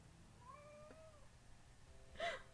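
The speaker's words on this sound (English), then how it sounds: "do you guys hear the cat again?" A cat meows a couple of times from across a quiet room, a thin, drawn-out call first and then a sharper, louder meow at the end, both faint against the background.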